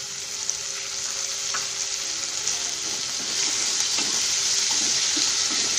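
Potatoes fry in a pan with steady loud sizzling throughout, joined by a few soft scrapes and knocks as they are stirred, for a spiced rice dish of potatoes and peas.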